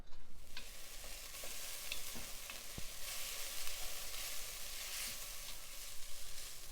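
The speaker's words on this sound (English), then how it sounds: "I've turned my heat down to a medium-low, and I've been sauteing these veggies for about 6 minutes" Vegetables sautéing in a pan over medium-low heat make a steady, soft sizzle, broken by scattered clicks and taps of stirring; no one talks.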